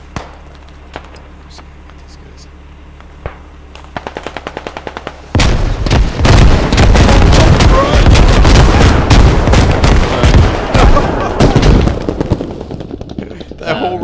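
A rocket barrage in the military shooter Squad: after a few quiet scattered pops, a loud, dense run of rapid explosions and cracks erupts and rolls on for several seconds before thinning out.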